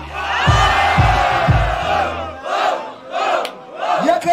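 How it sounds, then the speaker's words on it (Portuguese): A crowd at a Brazilian rap battle roars and cheers, with loud rhythmic shouted bursts at first, then rising waves of whoops and cheering. "E aquela salva de palmas, família"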